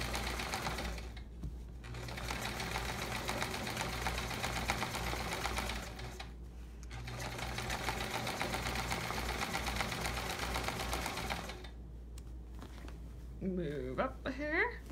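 A sewing machine stitches free-motion quilting, filling around text on a Charming Chevrons quilt, whirring in long steady runs broken by two short pauses, with a voice briefly heard near the end.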